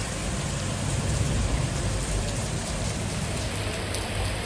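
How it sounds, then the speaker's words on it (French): Steady rain falls on a beach, a dense even hiss of drops filling the whole stretch at constant loudness with no voices. "La plage sous la pluie."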